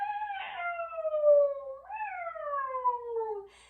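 Voices imitate a cat in a parent-and-child yoga class, with two long, drawn-out meows that slide downward in pitch, one after the other, clear against a quiet room.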